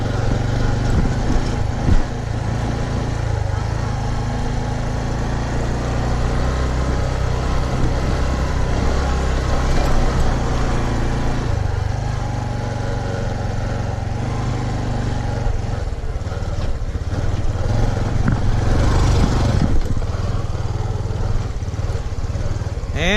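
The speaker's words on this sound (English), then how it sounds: "a motorcycle like this one with narrow tires. Down in low gear." A Honda CT125 motorcycle engine chugs steadily in low gear on a rocky trail, a deep continuous rumble with slight rises in revs, close by and loud throughout.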